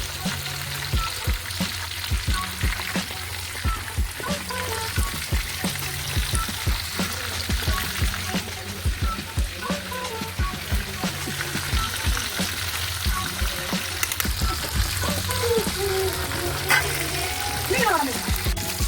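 Quail frying in oil in a pan for a Kerala-style fry, giving a dense continuous crackling sizzle close up, broken by occasional stirring and scraping knocks throughout.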